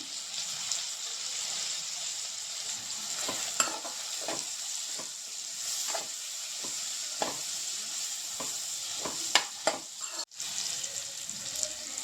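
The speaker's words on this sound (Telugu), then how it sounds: "ఇలా టొమాటో అండ్ ఆనియన్స్ వేగుతున్నప్పుడే" Tomatoes and onions sizzle steadily in a hot pan while a spoon stirs and scrapes now and then, producing occasional sharp clinks.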